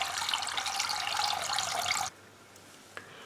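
A water pump soaks a hydroponic system with a loud, close, hissing splash that lasts about two seconds and then cuts off, leaving low background noise and a single small click.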